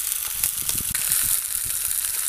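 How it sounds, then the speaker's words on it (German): Chicken legs sear in hot fat inside a Dutch oven, giving a dense, continuous sizzle with crackling pops close to the pan, steady throughout with no voices. "jetzt erstmal von beiden Seiten schön anbraten"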